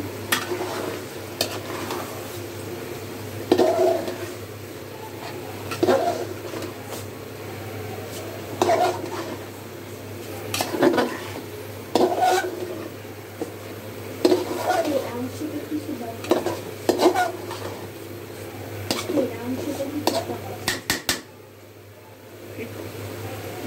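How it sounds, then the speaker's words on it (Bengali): Chicken meat stirred in a cooking pot for a potato curry, with repeated spoon clanks and scrapes against the pot over a low sizzle and occasional quiet speech. "মাংসটা দিয়ে দিচ্ছি। নাড়া দিয়ে দিচ্ছি।"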